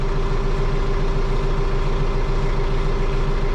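Cab tractor engine idling up close, a loud steady diesel rumble with an even low throb and constant mechanical hum, no voices over it.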